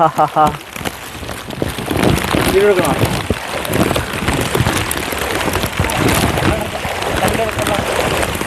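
Steady rain pattering and hissing over splashing floodwater, dense and continuous, with voices talking over it.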